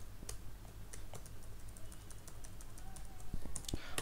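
SQL code is being typed on a computer keyboard, a quiet, steady patter of close key clicks with irregular rhythm and a few sharper taps near the end, with no voices.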